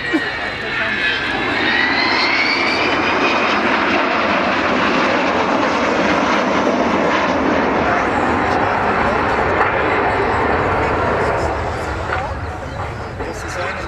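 A 60-year-old Avro Vulcan jet bomber roars overhead at an air show, a loud sustained engine rumble with a whining tone early on, slowly easing toward the end.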